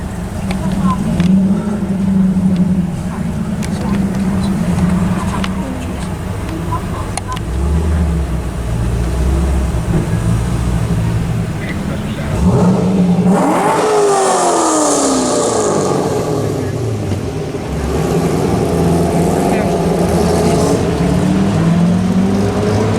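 Cars pulling out at a Kendallville, Indiana car cruise, engines rumbling and one revving up in a rising sweep, steady loud traffic noise with people talking over it.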